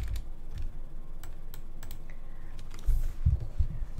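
Someone types JavaScript code on a computer keyboard, close and clear, with scattered key clicks in an uneven rhythm and a few heavier thumps near the end.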